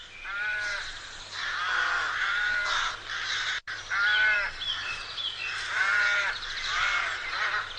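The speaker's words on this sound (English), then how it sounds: "The arrival of spring is heralded by the unmistakable sound of the rookery" Raucous cawing from many rooks at a spring rookery, overlapping calls in a dense, continuous chorus with a brief gap partway through.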